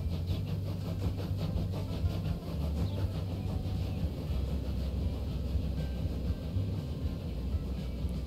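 A train running in the Transport Fever 2 video game gives a steady low engine drone with faint rhythmic rumble, continuous and moderately loud, with no talking.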